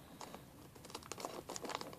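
Plastic blind bag packaging for a toy pet is snipped open with scissors, giving close, quiet crinkling and small clicking cuts in irregular bursts.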